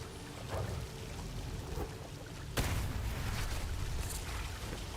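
Water rushing from unclogged sewers in the dark fantasy game Graven, a steady loud pouring gush with a sharp burst partway through, continuing without talk.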